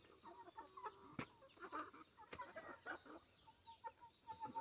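Hens clucking on a cacao farm while eager for worms, with soft repeated clucks and short calls close by and scattered through, plus a couple of sharp clicks.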